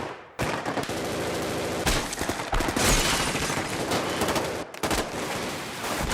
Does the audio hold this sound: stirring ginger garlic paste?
no